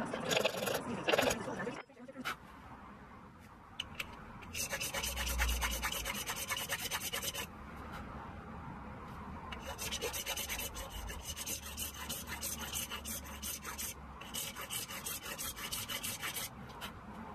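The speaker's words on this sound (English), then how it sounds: "So I'm filing the Cupid's bow into the bridge, which is just a decorative feature" A hand file rasps rhythmically against metal, shaping a decorative curve into the bridge of an English mitre plane. Bursts of quick back-and-forth strokes are separated by short pauses, close and fairly loud.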